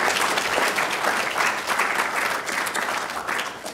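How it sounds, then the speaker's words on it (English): A live-stream audience breaks into steady, dense applause for the event's speakers, a continuous wash of many hands clapping at even loudness with no voices on top. "Give a big round of applause for our speakers."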